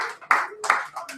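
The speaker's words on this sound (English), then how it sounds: "Give yourselves a big round of applause." Audience applause at a live weekly open mic poetry reading: a small crowd claps in short, close, moderately loud bursts, with a few voices mixed in.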